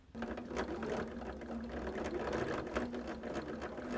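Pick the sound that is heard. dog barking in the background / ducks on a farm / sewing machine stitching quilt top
sewing machine stitching quilt top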